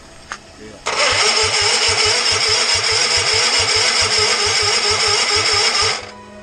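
A 19 hp small engine cranking and trying to start, a loud rapid rhythmic churning that kicks in abruptly, holds steady for about five seconds, then cuts out, close up with a brief voice before.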